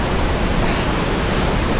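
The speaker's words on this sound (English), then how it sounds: "See, the water's just pounding on me." Heavy water from a huge mountaintop waterfall pounds down amid 60 km/h wind gusts, a dense, loud, steady roar of broadband noise filling the whole clip with no break or voices.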